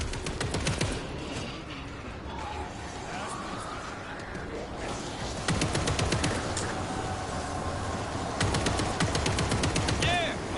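Rapid automatic gunfire in bursts rattles through the zombie shooter World War Z, with players talking over the shooting and chaotic game noise underneath.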